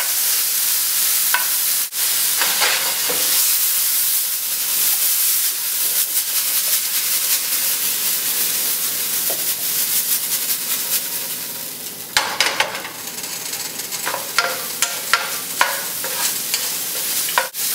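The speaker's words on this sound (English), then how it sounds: "You want to make sure that you're stirring this so it doesn't stick to the pan, doesn't get burnt." Beef stir-frying in a pan, a steady sizzle and hiss running throughout with scraping stirs and clinks of a utensil against the pan, close and fairly loud, no talking.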